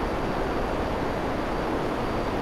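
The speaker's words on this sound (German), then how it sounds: "Okay, wieder ein Flugzeug." An airplane in GTA V Online flies by with a steady, loud, broadband engine roar that fills the whole moment without change.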